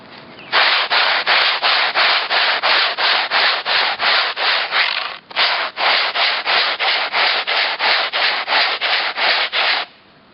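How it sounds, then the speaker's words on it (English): A wooden boat seat bottom rubbed flat against driveway concrete, two long runs of rapid, even back-and-forth scraping strokes, loud and close, with a short pause midway and no talking. "The quickest way to sand the seat bottom flat is found in your driveway's concrete."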